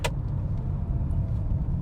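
A 2.1-ton Mercedes S500 W140 slowing under engine braking while heading downhill, giving a steady low engine and road rumble throughout, with a brief click at the start.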